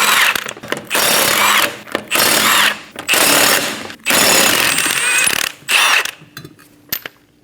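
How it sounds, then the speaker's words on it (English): A 21mm socket on a power impact tool zips off the five lug nuts from a 2008-2015 Scion xB rear wheel, in a run of loud, close rattling bursts separated by short pauses. "Using a 21mm socket, remove the 5 lug nuts."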